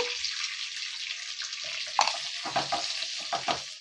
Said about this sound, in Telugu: ఎండుమిర్చి కూడా ఒకటి తుంపు వేసాను అలాగే కొంచెం కరివేపాకు కూడా వేసాను ఇలా బాగా వేగనివ్వాలి